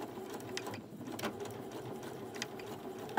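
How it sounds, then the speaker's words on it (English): Sewing machine stitching down the edge of a homemade no-latch-hook rug, running steadily at a quiet level with a faint mechanical whir and small ticks, no talking. "I'm just going to sew this down."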